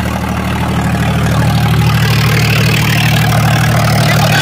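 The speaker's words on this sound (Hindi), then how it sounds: "अब हम इसके भाई आरपीएम भी दिखाओगे ट्रैक्टर कितने आरपीएम ड्रॉप कर रहा" Eicher 551 tractor diesel engine idling steadily, a loud, even low rumble with a regular throb that holds constant throughout, no talking.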